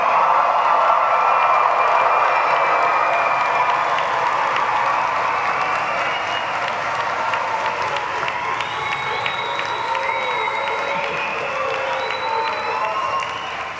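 A graduation crowd at a university commencement cheers and applauds loudly and steadily, dense clapping mixed with shouts and whoops that fill the hall without a break.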